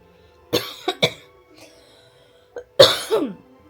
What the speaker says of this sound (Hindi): खांसी हो रखी है इतनी ज़्यादा